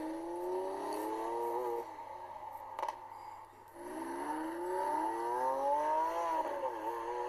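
A Lamborghini's high-revving engine whines and rises in pitch, dips briefly, then climbs again in a sustained, steady roar.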